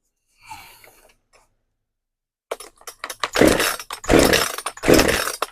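A Poulan Pro PR5020 chainsaw with a fault that makes it bog down and refuse to idle, heard after a brief rattle and pause as it sputters to life, then revs loud and close in three rough surges that sag between them.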